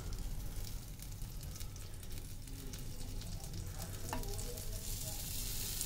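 An uttapam fries in butter on a hot griddle, giving a steady close sizzle with light crackles throughout and no talking.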